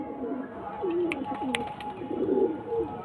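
A male Andhra blood pigeon coos in a few soft, rolling phrases at close range, with faint background noise.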